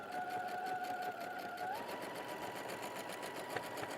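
Sewing machine stitching rows of quilt triangles together, a faint, steady, rapid mechanical whir running continuously with a soft tonal hum at the start.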